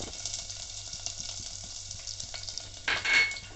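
Ginger and garlic sizzle and crackle steadily in hot oil, with light clinks of a spoon stirring in the pan.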